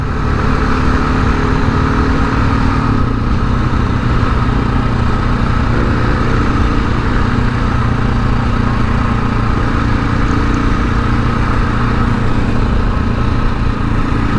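A KTM 690 Enduro rides steadily in a straight line off road in Minnesota, its single-cylinder engine a loud, constant buzzing drone with heavy wind rush and little change in pitch throughout.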